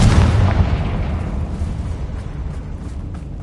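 A Confringo fire spell blasts in Hogwarts Legacy as a loud, deep explosion at the start, with a low rumbling boom that slowly fades over a few seconds.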